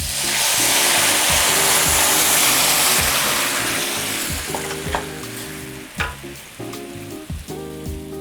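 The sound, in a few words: lemon juice and hot sauce sizzling in a pan with shrimp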